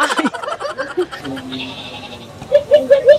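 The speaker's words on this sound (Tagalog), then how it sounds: "Bakit may kambing?" A goat bleats several times in a busy Quiapo street setting, short nasal calls coming near the end over background chatter and crowd noise, with people talking nearby.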